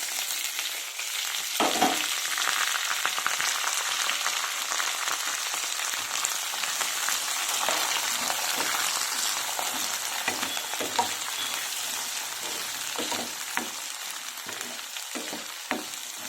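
Chopped beans, carrots and onion fry in oil for tomato bath, giving a steady, dense sizzle broken by frequent scraping stirs and spoon clicks, with no talking.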